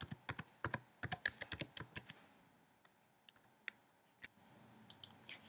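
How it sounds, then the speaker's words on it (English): Keys clatter on a computer keyboard as someone types search text, a quick burst of crisp clicks in the first two seconds, then scattered single taps with short pauses in between, close and clear with no talking. "then we type the text to search for"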